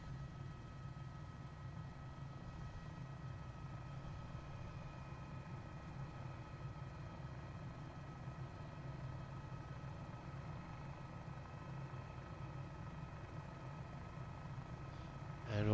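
Steady low rotor and engine drone of an Airbus H145 helicopter in Microsoft Flight Simulator, a constant faint hum with no changes across the whole stretch.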